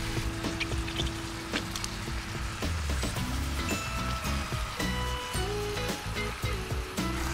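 Plum tomatoes are squished by hand inside a pot over a cooking sizzle, with wet squelching, dribbling and clinking heard at close range and no one talking.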